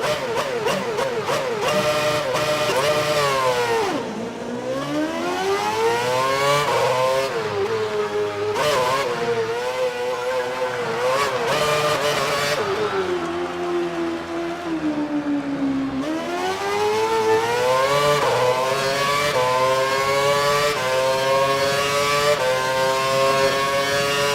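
F1 car engine in F1 2012 screams at high revs, climbing through the gears in repeated rising whines with brief dips at each shift and on braking, loud and continuous with no talking.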